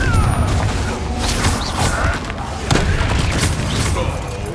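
A Confringo fire spell blast in Hogwarts Legacy lands among booming impacts and crashing bursts, loud and close, under a busy layer of game noise and voices.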